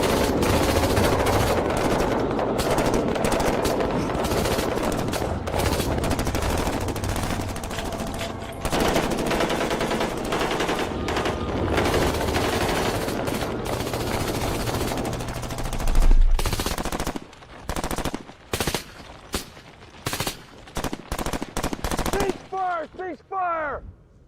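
Heavy sustained automatic gunfire and rifle bursts in a desert war battle, loud and continuous, then breaking into scattered separate shots as the firing dies down.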